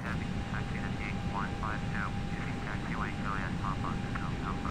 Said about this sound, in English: There the Embraer is landing.